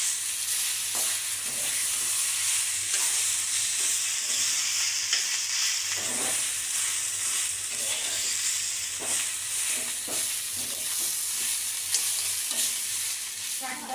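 Greens fry in a pan with onion, dried chili and garlic, a steady close sizzle and hiss with repeated scraping stirs throughout and no talking.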